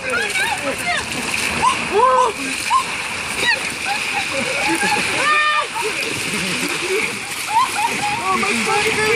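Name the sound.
ice water splashing during ALS ice bucket challenge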